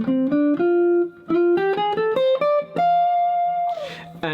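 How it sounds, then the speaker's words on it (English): A major blues scale played note by note on a bright electric instrument, stepping upward in a quick, even rhythm, then settling on a long held top note that fades into a soft noisy scrape. "So the major blues scale sounds like this."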